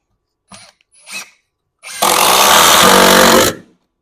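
A Metabo 18V triple hammer 1/4-inch impact driver (WH18DC) in bolt mode fires one loud, close rattling burst of hammering for about a second and a half, after two short trigger clicks and whirs.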